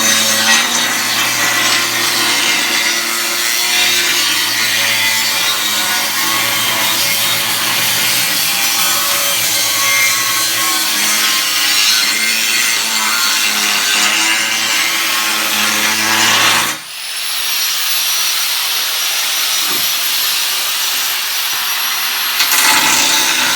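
Rusted metal being cut out of a Lexus GX 470 with a power tool, a loud continuous grinding whine that runs for most of the clip, cuts off briefly, then resumes at a higher pitch.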